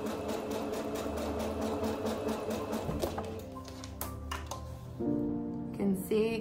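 A home sewing machine runs steadily, stitching fabric for a Regency gown with a loose stitch, its needle chattering in a fast rhythm, then stops and restarts in shorter bursts with clunks near the end.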